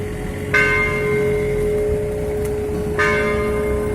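Two loud strikes of a town hall or church bell on a Camino de Santiago street, about two and a half seconds apart, each leaving a long ringing hum that lingers under quiet street ambience.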